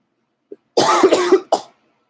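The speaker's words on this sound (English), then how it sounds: "Sorry for the coughs." A faint throat click, then a loud, close bout of harsh coughing, followed by one more short cough.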